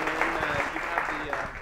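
An audience at a university seminar claps to welcome a speaker, producing a dense, even patter of applause that continues steadily through the moment.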